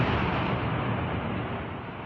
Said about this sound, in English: That's the sound of strikes from India on the Pakistan-administered Kashmir